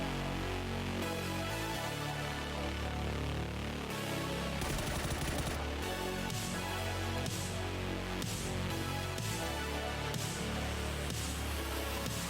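Video game gunfire rings out in an online battle match as repeated bursts and single shots over a dense, steady game soundscape, with no talking.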